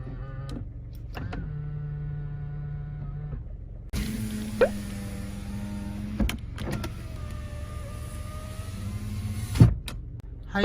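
Electric folding side mirrors on a Kia Morning (All New Morning) small car give steady motor whirs lasting a few seconds each, ending in soft clicks and thunks, heard close up.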